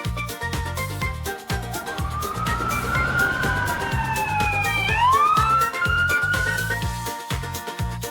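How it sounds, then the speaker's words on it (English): An ambulance truck siren rises and wails loudly over a steady beat of backing music, then sweeps up in pitch and holds before fading. "The loud siren helps it move quickly and save lives."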